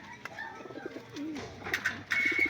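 A Santa Ana Clacker pigeon coos in soft, rolling bursts close by, pairing with a female in a breeding setting, with brief chirps and a faint background hum.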